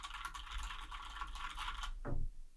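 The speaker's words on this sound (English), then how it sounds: "I love, love, love, love, love, love this keyboard and the keyboard sounds." Fast clattering keystrokes on a computer keyboard in a home office, a quick, close, steady run of taps ending in a slightly louder thump, with no talk.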